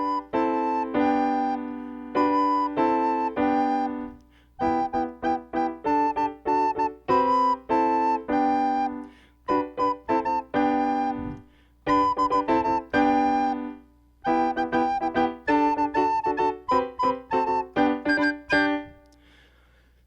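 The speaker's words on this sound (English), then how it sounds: "it sounds like this with the piano accompaniment." Hot Cross Buns played on a soprano recorder over piano accompaniment, the recorder's clear, steady tones phrased in short repeated note groups with brief breaths between, the piano sounding beneath, close and fairly loud without speech.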